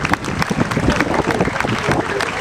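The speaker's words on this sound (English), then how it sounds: "nice round of applause for that" Audience applause at the official commissioning of a school, a sustained dense wash of many hands clapping at steady loudness, with a bit of crowd noise mixed in.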